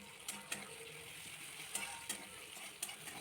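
Marinated chicken going into spice paste and tomato frying in a pan for an alu chicken jhol. A soft, steady sizzle is broken by several sharp metallic clicks and scrapes of a utensil against the pan, with no voices.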